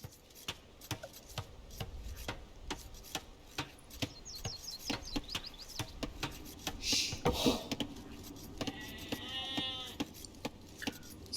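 Sheep bleating in the Age of Empires 2 strategy game, a few short quavering bleats from about seven seconds on, amid steady clicking and other game effects.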